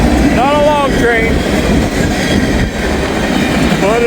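A short train passes close by in rainy flood conditions, its steady loud rumbling and clacking wheels joined by squealing flange tones at the start and again near the end, with someone speaking over the noise.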